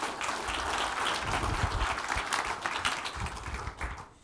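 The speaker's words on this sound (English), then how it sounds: "Please give them a round of applause." A conference crowd at a business customer session gives a round of applause, with dense, continuous clapping that tapers off at the end.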